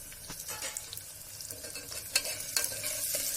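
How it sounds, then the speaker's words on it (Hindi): Onions and cumin seeds frying in a pan for a mutton and spinach curry, with a steady close sizzle broken by several sharp scraping stirs of a spoon against the pan. "जीरा भी डाल देते हैं ताकि इसके गोल्डन ब्राउन होने तक साथ के साथ जीरा भी भून जाए"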